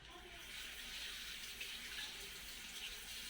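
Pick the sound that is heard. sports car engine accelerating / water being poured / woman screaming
water being poured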